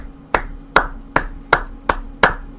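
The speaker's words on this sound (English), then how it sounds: "give you an applause there for that" One person clapping six times at a steady, slightly slow pace, each clap sharp and close, with no other sound between the claps.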